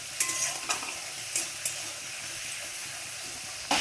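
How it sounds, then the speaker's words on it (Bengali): Ginger and garlic paste frying lightly in a pan, giving a steady soft sizzle with a few brief stirring scrapes and clicks, close and fairly quiet, no talking. "আদা রসুনটা একটু হালকা ভেজে নিচ্ছি।"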